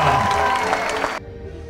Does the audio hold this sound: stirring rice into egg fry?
no